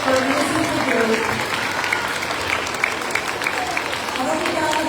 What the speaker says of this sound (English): A big round of applause for Mrs. DeGroote.